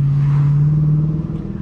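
Dodge Challenger R/T engine revving on a wet road at night, a loud sustained close drone holding steady before easing off at the end, no voices.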